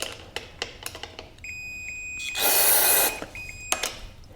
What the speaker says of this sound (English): it's gonna start beeping because I'm using my screwdriver to push them open.